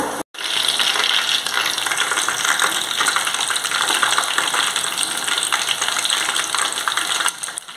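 Tilapia fillet frying in very hot oil, a dense, continuous crackling sizzle that stays loud and steady throughout after a brief sharp break at the start.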